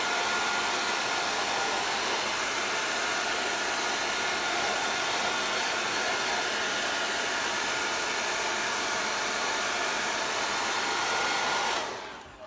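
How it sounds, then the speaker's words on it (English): A hair dryer blowing to dry acrylic paint on a cardboard collage piece, a loud steady close-up hiss and whoosh running continuously before cutting off at the end. "I tend to like to get a hairdryer and dry"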